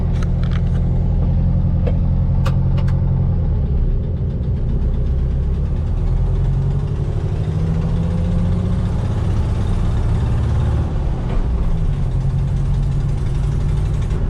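A Volkswagen Beetle engine drones and rumbles loudly and steadily through its first drive after restoration, the pitch dipping and rising with gear changes, heard from inside the car with no talk.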